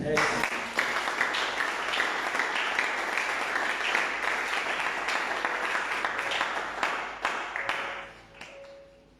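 A church congregation applauds loudly and steadily for about eight seconds, a dense wash of clapping that tapers off toward the end.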